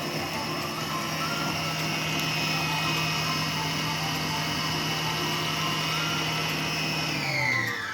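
A Cocotte food processor robot chops onion at speed 7 with a steady, close whirring motor whine and even tonal hum that winds down sharply just before the end.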